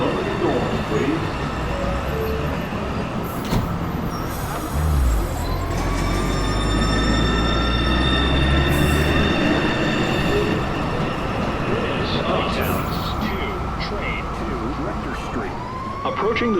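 A New York City subway 1 train pulls into the 207 Street station, its loud, continuous rumble and wheel screech building steadily across the platform, with brief tonal squeals and a sustained mechanical roar throughout.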